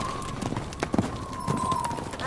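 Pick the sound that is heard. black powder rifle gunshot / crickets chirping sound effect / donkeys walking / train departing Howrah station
donkeys walking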